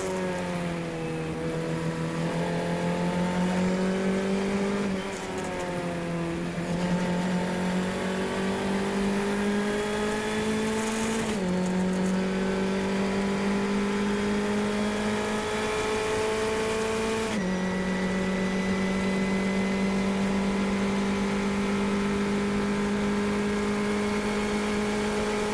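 Race car engine on a road race lap at Palm Beach, droning loudly and steadily at high revs, with its pitch dipping briefly at a few gear changes, heard alone without voices.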